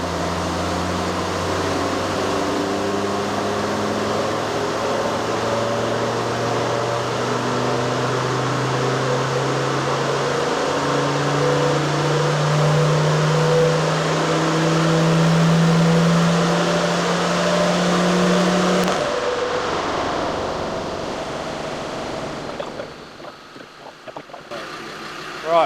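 A Td5 diesel engine with a GTB450 turbo runs on a dyno. It roars steadily while its low drone climbs in pitch for about nineteen seconds, then drops away to quieter fan and mechanical noise.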